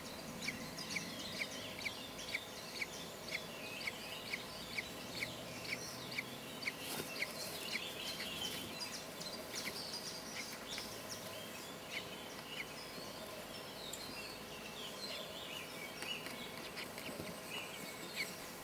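Rapid high-pitched peeping chirps from a newly hatched kestrel chick repeat steadily throughout, small and close, over a soft background hum with occasional clucking-like calls.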